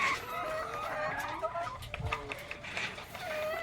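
Rhode Island chickens in a layer house cluck steadily in an overlapping flock chorus, close and moderately loud, with short higher calls breaking through and no talking.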